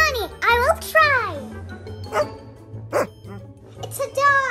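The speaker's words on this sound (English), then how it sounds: "It's a dog." A dog barks several times in a children's story scene, the yelps mixed with a voice and other talk, with a light jingle underneath.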